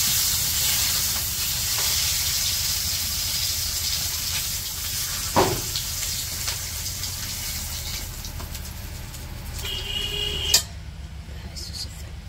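Fish, first koi and then magur, frying in oil in a village kitchen in Bangladesh, with a steady broadband sizzle running throughout, a couple of brief clatters over it, and the hiss thinning toward the end.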